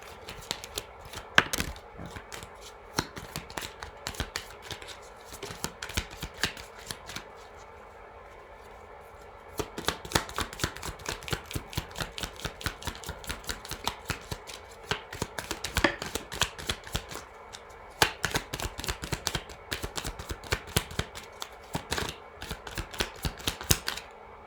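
Tarot cards being shuffled over and over, a long run of quick crisp riffling bursts with brief pauses between them, close and fairly loud, with no talking.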